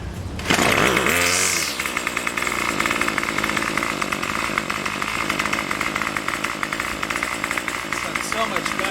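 A Craftsman gas string trimmer's small two-stroke engine, running without choke after a repair, fires up almost at once and settles into a loud, steady, buzzing idle that holds close and constant to the end.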